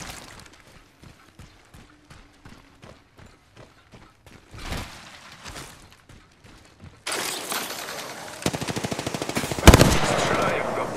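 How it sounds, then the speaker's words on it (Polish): Gunfire in the Apex Legends video game: a run of evenly spaced single shots gives way to louder rapid bursts of automatic fire, with a couple of heavy blasts standing out near the end. "Strzelają do mnie."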